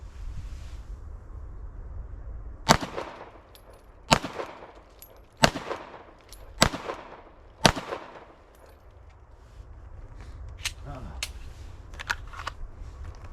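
Five sharp, loud Glock 19 pistol shots fired outdoors at a steady pace, each with a quick echoing decay over constant wind noise, then a few fainter distant pops afterward.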